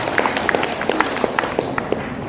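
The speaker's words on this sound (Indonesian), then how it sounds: "Tepuk tangan dulu" A teachers' gathering in a madrasa setting breaks into audience applause, a dense, lively patter of many hands clapping at close range that holds steady throughout.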